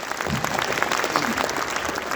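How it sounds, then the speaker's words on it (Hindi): Loud, dense applause from a crowd at an event, a steady wash of clapping that fills the short stretch without pause. "मैं चाहता हूँ उनके लिए भी जोरदार तालियां।"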